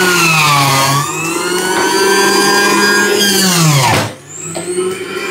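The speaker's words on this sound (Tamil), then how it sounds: "இந்த வெள்ளை பூசணிக்காய் எல்லாமே நம்ம வந்து ஈஸியாக ஜூஸ் பண்ணிக்கலாம்" An electric juicer whirs loudly as pieces of white pumpkin (ash gourd) are fed in, the motor pitch sagging and dipping under load several times before spinning back up, close and steady.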